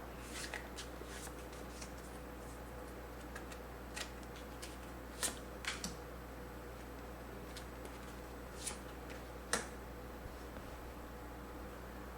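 Tarot cards are shuffled and drawn quietly, soft rustling with scattered sharp card snaps and flicks at an irregular pace, close but faint.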